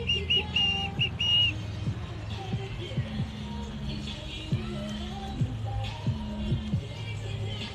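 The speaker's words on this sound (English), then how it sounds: "If you hear the music, that is that's the wheelchair." Music plays from a passing wheelchair outdoors, heard as faint tinny tones and soft rhythmic thumps beneath background noise, fading as it goes by.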